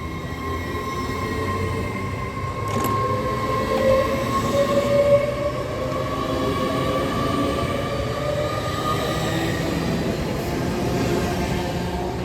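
A train rolls through Durham station, its steady rumble and rail noise sustained and fairly loud throughout, with faint squealing tones drifting over the wheels.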